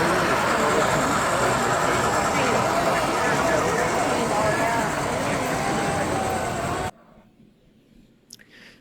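Close, steady rumble of a model Wisconsin and Southern passenger train running on a layout at a model railroad show in Cedarburg, Wisconsin. It continues for about seven seconds, with background voices, then cuts off to near silence.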